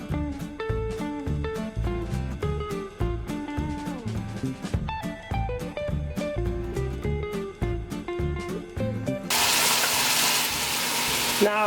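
Oxtail pieces coated in green seasoning marinade drop into hot oil in a pot for brown stew, giving a broad, steady sizzle in the last few seconds under loud background music.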